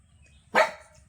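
A puppy gives one sharp, close bark that rises out of near silence and then fades quickly, with no voices around it.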